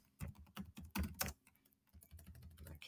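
Fingers tap on a computer keyboard in quick, uneven clusters of clicks, quiet and close, with a short pause partway through and no talking.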